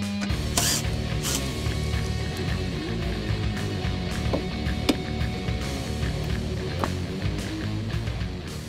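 A ratchet backs Torx screws out of the air deflector under a 2013-2018 Ford Focus ST, giving close, steady mechanical clicking with a few sharper snaps scattered through.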